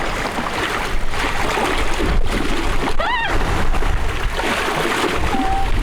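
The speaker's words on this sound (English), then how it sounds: "The waves, I think, are about 2 feet that are going by this boat right now." Steady wash of roughly 2-foot waves sloshing against the hull of an anchored boat as it pitches, continuous and close, with a few chirping bird calls partway through.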